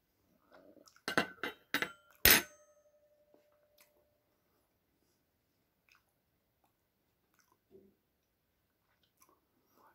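Close crunchy bites and chewing of cooked beet stems with onions, a few sharp bursts early on followed by long near-silence with faint scattered mouth and utensil clicks.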